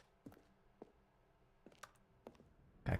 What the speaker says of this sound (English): Why does it sound like I'm clicking on a keyboard?